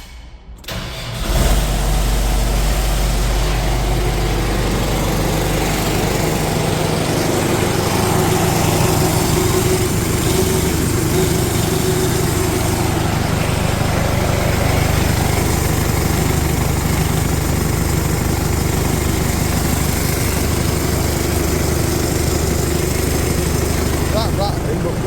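A New Holland T5070 tractor engine idles loudly and steadily, its close diesel drone carrying a persistent rattle throughout, with a person's voice occasionally audible over it.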